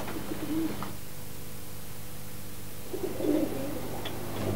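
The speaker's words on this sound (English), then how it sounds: "The pigeons are pretty tame and quiet." Tame pigeons in a loft give soft, low coos near the start and again near the end, over a quiet steady background hum.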